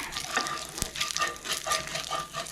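Bacon grease and flour sizzle and crackle in a hot pan, a loud, steady frying hiss with bursts of spitting and stirring scrapes throughout, no talk.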